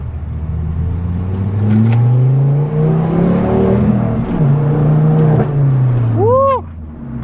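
A Ford Focus ST fitted with a 3-inch straight exhaust revs hard while driving, its loud, raspy tone climbing and dropping through gear changes up close, with excited voices alongside.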